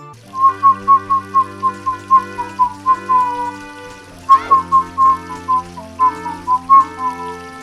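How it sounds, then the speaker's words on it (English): A melody from The Legend of Zelda: Ocarina of Time is whistled as a run of clear, evenly spaced notes, loud and close, over a soft sustained background tone. "They're great songs to horribly whistle to while playing the game."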